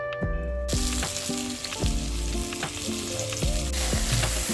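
Prawns fry in a pan with a loud, close, continuous sizzle and crackle, while tonal music plays underneath.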